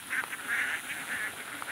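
A flock of ducks in a village paddy field quacking and honking continuously, a dense chorus of nasal calls at moderate distance with no talk over it.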